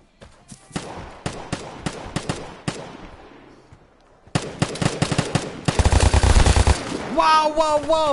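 Rapid gunfire from a weapon in the video game Vigor: a string of sharp separate shots, a pause, then a denser automatic burst, loud and close, ending in ringing metallic tones.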